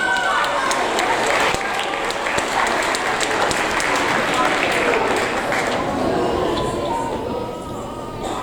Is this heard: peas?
no